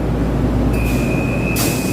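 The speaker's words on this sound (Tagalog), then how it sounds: "babiyahin na po ang train na ito para po sa mga kababayan natin" An LRT Line 1 train pulls away from a station toward Sucat in Parañaque with a steady low rumble and a sustained high whine, loud and close, with no talk.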